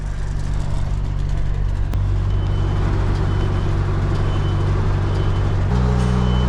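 An HGV truck manoeuvres into a parking space at a truck stop, its diesel engine rumbling loud and close with a steady low drone that shifts pitch near the end as it moves.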